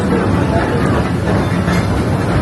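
A Disneyland park train running along its rails, a loud close steady rumble of wheels and carriage noise with faint chatter mixed in.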